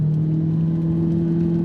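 An Audi R8 engine drones loud and close under steadily rising throttle, a strong continuous tone with a smooth, even growl and no voices.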